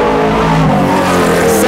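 Custom Mercedes SL widebody race cars roar loudly and close by on a track, engines revving with a deep, rough, vibrating growl and layered harmonic tones that hold steady throughout.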